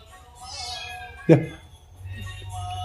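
A single short meow rings out clearly in the middle, set against soft background talk and room noise.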